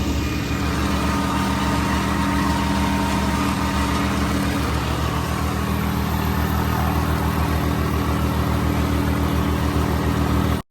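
A tractor engine runs steadily and loudly throughout, a constant low idling rumble with no breaks, close by, while pulling a mulcher and rotavator in a field.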